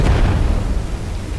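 Ship blown apart by cannon fire in a video game, a loud broad explosion that booms at once and rumbles on, decaying through the whole moment with no talk.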